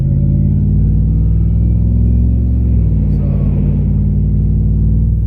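A supercharged Whipple Ram truck running on pump gas, in four-wheel drive and at full weight, gives a loud, close, steady low engine drone whose pitch drops and shifts about halfway through, with no clear talk over it.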